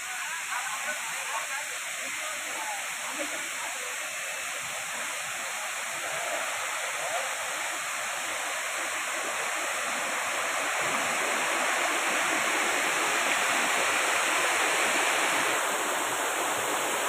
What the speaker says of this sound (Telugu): చూడండి వాటర్ ఎంత పైనుంచి వస్తుందో, చాలా హైట్ నుంచి వస్తుందో.